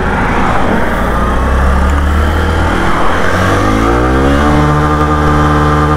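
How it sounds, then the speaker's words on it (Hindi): A Hero Super Splendor BS6 motorcycle accelerates hard in first gear, its engine note rising steadily in pitch and loudness over several seconds, close and continuous with no talk. "बाइक को मैं एक नंबर पे डाल दिया है, तो देखते हैं एक नंबर पे कितना जाता है।"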